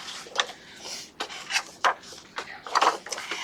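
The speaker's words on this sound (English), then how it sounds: "Now I'm just going to trim that off there." Acetate card paper being trimmed by hand, a series of short crisp cutting and rubbing scrapes in quick, uneven succession, close and fairly quiet.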